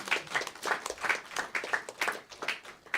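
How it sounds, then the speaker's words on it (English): Worshippers at a Sunday temple program in Coventry clap for Srila Prabhupada in a soft, rhythmic pattern of evenly spaced claps, fairly quiet and a little distant. "Give Srila Prabhupada a big round of applause"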